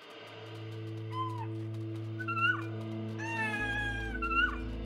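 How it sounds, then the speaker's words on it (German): Several short cat meows and mews in the video game Endling: Extinction Is Forever, rising over a steady low ambient drone, moderately close and fairly quiet. "Eine Katze?"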